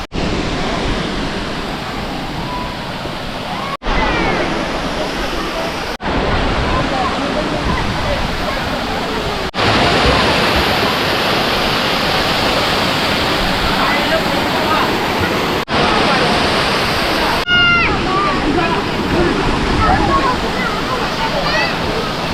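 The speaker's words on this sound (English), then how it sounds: "the sound of the water is pretty nice" A small waterfall near Karapuzha Dam in Wayanad, India, roars as a dense, steady rush, heard from some distance. The wash continues unbroken across several abrupt cuts.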